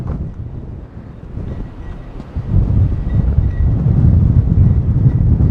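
Strong wind buffets a phone on a gimbal stabilizer outdoors, a continuous low rumbling roar that gusts louder after a few seconds and stays heavy.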